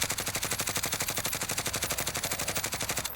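Rapid automatic rifle fire in the Warzone video game rattles out as one sustained burst of evenly spaced shots, loud and close, with no talking.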